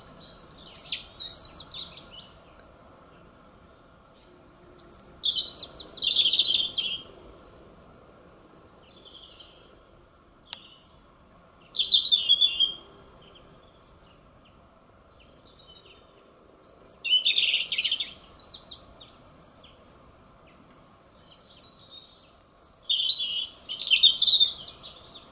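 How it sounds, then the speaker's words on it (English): Several small birds sing in bursts of high, bright chirps and trills, some near and some farther off, trading phrases back and forth with quiet pauses between over a calm outdoor background. "And as it's singing, other little birds are singing to it."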